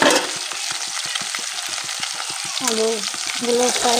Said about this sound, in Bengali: আলুগুলো প্রায় ভাজা হয়ে গেছে